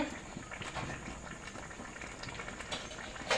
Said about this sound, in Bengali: আর একটু সময় ঢেকে রাখবো মাছটা সেদ্ধ হয়ে যাবে এখানে